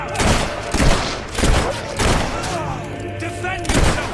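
Gunfire from enemy soldiers in the video game Fable 3, heard as repeated loud volleys of shots in bursts with thudding impacts, mixed with game voices.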